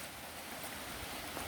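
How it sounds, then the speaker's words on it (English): Water rushing down a rain-swollen creek beside a road and washed-out culvert, a steady broadband wash heard close and continuous with no talk. "I can hear the water rushing already."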